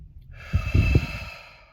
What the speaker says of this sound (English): And I can take a few more breaths